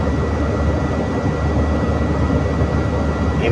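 Dense, continuous roar of an MRT elevated train passing overhead on a trip from Valenzuela to San Juan, a loud broadband rumble that holds steady and close throughout with no voices.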